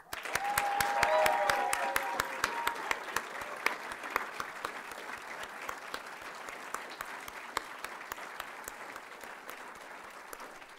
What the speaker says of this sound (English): please extend a final round of applause for United States Transportation Command 2021 Annual